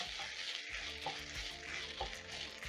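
Minced meat with coriander sizzles in a hot pan as it is stirred, a quiet steady frying hiss with soft periodic scrapes from the spoon.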